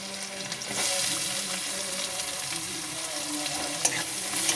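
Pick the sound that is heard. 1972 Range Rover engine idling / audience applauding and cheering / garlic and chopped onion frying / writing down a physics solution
garlic and chopped onion frying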